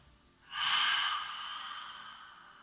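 A long, breathy exhale through the mouth during a De Gasquet method yoga exercise engaging the perineum, starting abruptly, then steady and slowly fading, close and clear, with no words.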